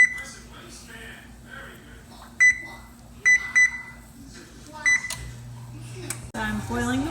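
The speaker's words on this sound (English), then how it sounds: "Preheating the oven to 400 degrees." Several short electronic beeps from an oven keypad as it is set to preheat to 400 degrees, in quick separate bursts over a low kitchen hum.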